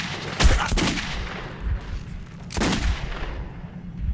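Gunfire in the video game Metro 2033: several loud, sharp shots crack close up, two in quick succession and then another, each trailing into a rumbling echo, with no talk.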